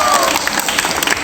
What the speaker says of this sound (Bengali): ওর জন্য জোরে একটা হাততালি।